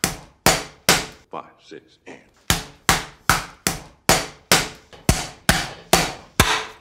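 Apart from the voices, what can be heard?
pounding pork cutlet with bottom of skillet on butcher block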